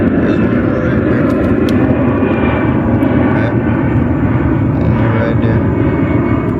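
Airplanes take off at an airport, a loud, dense jet engine roar that rumbles steadily through the whole stretch and drowns out everything else.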